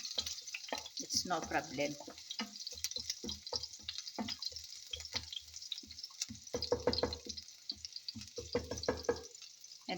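Onions and garlic frying in a pan while siopao filling is cooked at home, a steady crackling sizzle with bursts of stirring and bubbling throughout, a voice speaking briefly and quietly over it.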